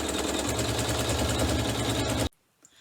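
An embroidery machine quilts a chenille hot pad, its rapid needle rattle buzzing steadily up close for about two seconds before cutting off abruptly into near silence.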